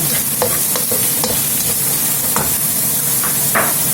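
Vegetables and carrots sautéing for fried rice sizzle loudly and steadily in a hot pan, with intermittent scraping and clacking of a utensil stirring them, close up and with no talking.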